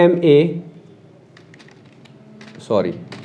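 A computer keyboard is typed on while entering text in Microsoft Word, producing soft scattered key clicks, close but quiet, with someone speaking briefly at the start and again near the end.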